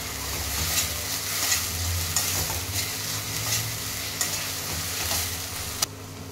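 Curry leaves dropped into hot oil in a pan crackle and sizzle loudly and steadily, with a few sharper pops rising above the hiss and no voices.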